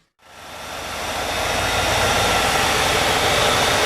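A 1995 Cadillac Eldorado engine with its air filter and covers off, just after a water pump replacement, fires up and swells within a second into a loud, steady, rushing roar heard up close.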